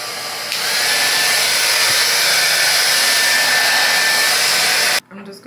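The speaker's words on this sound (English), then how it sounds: "Now I'm just gonna use my blow dryer to just help dry up, you know, all that foundation." A blow dryer runs steadily at close range for about four and a half seconds while drying foundation on a wig cap, then cuts off abruptly.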